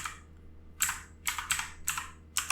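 Keystrokes on a computer keyboard, near and clear, come in short quick bursts separated by brief pauses.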